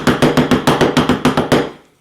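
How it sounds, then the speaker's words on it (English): Two hammers strike fabric laid over a second hammer used as an anvil to distress it, about ten even metallic knocks in steady rhythm, close and loud, ending in a fading ring. "I don't have a big other plate now, so I'm gonna use just 2 hammers"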